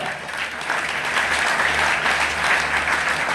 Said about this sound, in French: On applaudit l'église du Seigneur ce matin